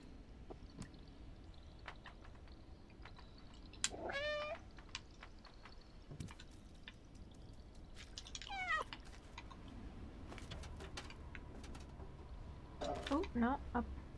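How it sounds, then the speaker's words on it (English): A cat meows several times in the video game Stray, short rising cries scattered over a quiet background with soft clicks and thumps, while a person talks at times. "Nothing cuter than a cat in a bucket."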